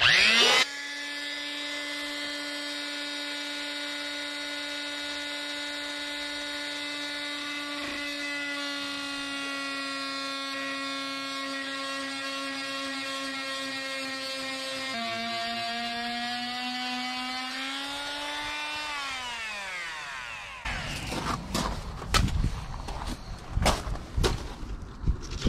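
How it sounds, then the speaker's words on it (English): Oscillating multi-tool blade cutting along marked lines in a trimaran deck, a steady high buzzing whine held for about twenty seconds that drops in pitch and stops, followed by a few clattering knocks and handling noises. "Here's the blade we're going to use on the multi-tool. And follow my lines down."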